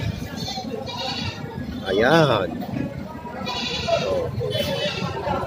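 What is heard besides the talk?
sheep bleating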